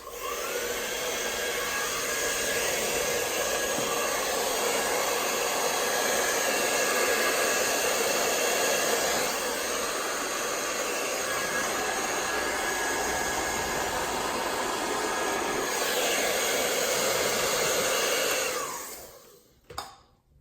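Heat gun warming the taillight trim on a 2018–2019 Honda Accord, a loud continuous blowing roar with a thin whine that runs steadily for about eighteen seconds before cutting off and winding down.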